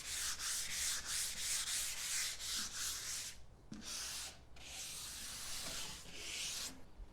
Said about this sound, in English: I'm going to give it a really, really light sand with a high grit sandpaper